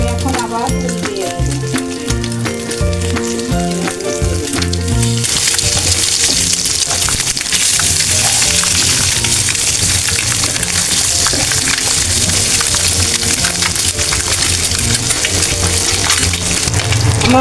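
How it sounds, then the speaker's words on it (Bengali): Eggplant coated in ginger, garlic, cumin, coriander, chili powder and salt fries in a pan, building into a loud, steady sizzle after a few seconds of mixed tonal sound and voice at the start. "এখন আমি ভেজে নেব।"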